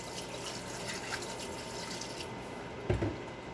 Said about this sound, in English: I'm gonna pour some more vinegar